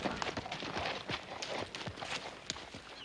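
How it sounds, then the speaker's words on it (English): Horse hooves clip-clop steadily on the ground in an old Western setting as a rider arrives, the steps close and fairly regular against a light outdoor background, with no talking. "Little Joe, why don't you see after Miss Edwards' horse while I help her down"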